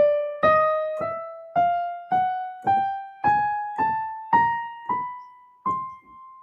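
Single notes climbing a chromatic scale one semitone at a time, about ten evenly spaced plucked tones that each decay before the next, clean and close with no talking.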